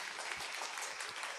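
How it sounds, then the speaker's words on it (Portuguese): Church congregation applauding after a prayer, a dense, steady wash of many hands clapping throughout, moderately loud and continuous without a break. "Vamos aplaudir aqui a coragem."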